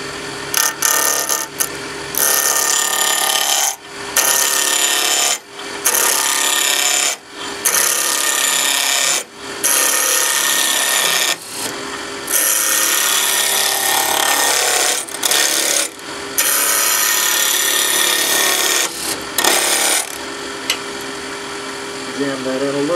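A wood lathe spins a cane handle blank at 2100 RPM, giving a loud, steady whirring roar broken by regular short dips as the tool bites and lifts, close up and continuous with no talk.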